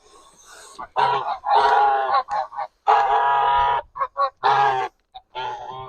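Geese honk loudly and repeatedly on a poultry farm, their harsh nasal calls coming in close overlapping bursts with short gaps, and a person's voice is mixed in.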